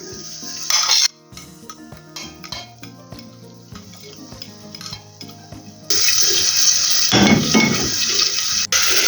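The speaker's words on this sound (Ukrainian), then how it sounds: "До масла додаю цибульку" Chopped onion dropped into melted butter in a pot starts to sizzle, a steady bright frying hiss that jumps louder partway through, mixed with soft clinks and stirring sounds.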